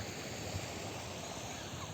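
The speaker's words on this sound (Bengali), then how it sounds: "তোমাকে ভিজিয়ে দিবে ঢেউ।" Sea waves washing onto a beach at Khejur Gachhiya sea beach in Bhola, a constant broad rushing surf that stays steady and moderately loud throughout, without speech.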